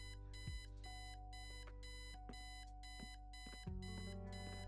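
Alarm clock ringing in the point-and-click game Kathy Rain, a steady, continuous electronic tonal ring with regular repeating pulses and a few sliding interruptions, loud and close, with no talk.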